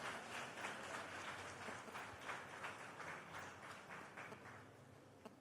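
Audience applause fills a hall at St. Xavier's Malhar college fest: steady, dense clapping from a large crowd, fairly faint and distant, lasting the whole stretch without talk.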